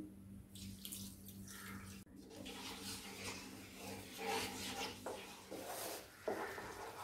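Half a cup of water is poured into a pan of sugar for homemade marshmallows, a soft, continuous splashing trickle, close but faint, with light clinks of the pan.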